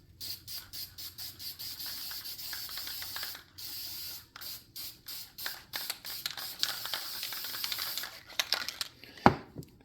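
Aerosol can of flat clear coat sprayed onto an HO scale model tree in repeated short bursts with brief gaps, a close steady hiss throughout, ending in a sharp click near the end.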